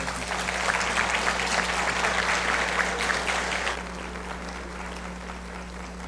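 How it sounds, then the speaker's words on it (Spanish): Audience applause at a panel discussion on family law, a dense steady clatter of clapping hands for about four seconds before fading to a softer tail. "Un aplauso, por favor."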